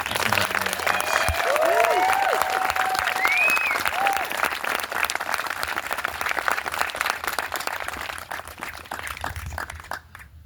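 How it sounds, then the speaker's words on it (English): An audience at a morning ceremony gives a long, dense round of applause. It starts loud and full, then gradually tapers off, with a few crowd voices and whoops mixed in. "let's give them one big round of applause"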